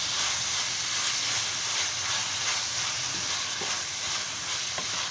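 Beef being mixed in a pan as it cooks, a dense continuous hiss of sizzling fat with faint scraping from the stirring, steady and close throughout.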